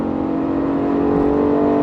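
A 2018 Ford Fiesta ST engine revs hard toward 6,000 RPM while accelerating out of a corner, a loud, steady rising drone heard from inside the car with no talk.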